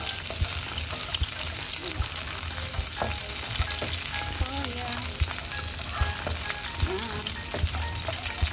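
Large sliced onions frying in a pan, a dense, constant sizzle of hot oil heard close up, with occasional stirring clinks and scrapes over the steady crackle.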